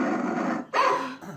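A dog growls and barks close by, a rough rumbling followed by a sharper bark.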